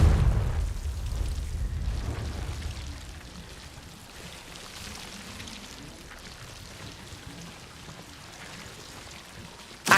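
A Confringo fire spell from the video game Hogwarts Legacy bursts in a loud, deep blast at the start, then settles into a crackling, rain-like rumble of debris and fire that slowly fades.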